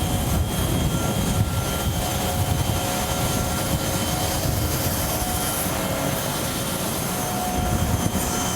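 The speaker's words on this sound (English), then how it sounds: "so now we are on the tarmac on Roissy Airport" Jet aircraft on the tarmac at Paris Roissy airport, an Air France Boeing 777 nearby: a loud, steady roar and whine of jet engines filling the scene without pause, with no talk.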